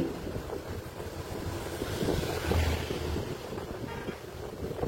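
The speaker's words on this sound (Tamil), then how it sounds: "மறுபடியும் இப்போ மழை அதிகமாக பெய்ய ஆரம்பிச்சிடுச்சு." Heavy rain during a bus ride on a hill road to Male Mahadeshwara hill from Bengaluru, heard as a steady, rushing hiss over a low, rumbling engine drone, with a brief swell midway and no talking.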